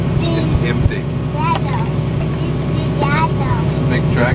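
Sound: new farm tractor engine running

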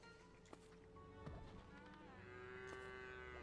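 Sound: cows mooing in video game Craftopia

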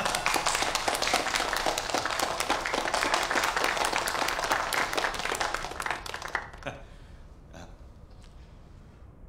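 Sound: audience applause welcoming the new police chief

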